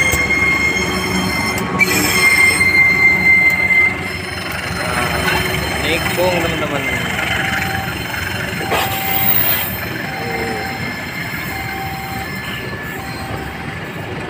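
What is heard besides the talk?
train running with squealing wheels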